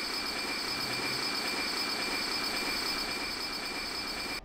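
Train pulled along the track in Train Simulator 2017, a pump cart run from Boston: a constant loud rolling rumble with a thin steady high whine, ending abruptly.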